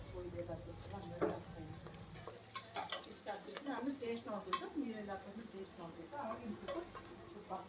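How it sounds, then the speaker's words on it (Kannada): Vegetables with salt sizzle and fry in a pan for pulao while a utensil stirs and scrapes in irregular bursts, fairly quiet and close. "ಇದಕ್ಕೆ ಸ್ವಲ್ಪ ಸಾಲ್ಟ್ ಹಾಕ್ಕೊಂಡು ಇನ್ನೊಂದು ಸ್ವಲ್ಪ ಫ್ರೈ ಮಾಡೋಣ"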